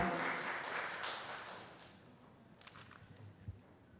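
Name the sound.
applause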